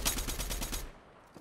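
A Fortnite gun fires a fast, loud burst of about eight evenly spaced shots up close, then cuts off into quiet.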